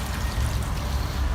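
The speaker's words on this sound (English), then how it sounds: "water coming down." Water pours down at an outdoor Christmas light display beside a bridge, making a steady, continuous rushing splash that is fairly close and unbroken across the moment.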